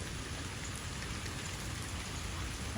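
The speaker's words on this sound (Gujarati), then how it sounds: "હજી પણ સારું જ છે વરસાદ જુઓ" Steady heavy rain falling around a cow shelter during the monsoon, a dense, unbroken hiss close by with no pauses.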